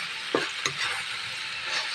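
Chopped garlic and simmered beef sautéing in a pan, a soft steady sizzle with a couple of light scraping stirs near the start, close and quiet, no voices.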